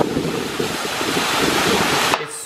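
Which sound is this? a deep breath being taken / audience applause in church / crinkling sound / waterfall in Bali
waterfall in Bali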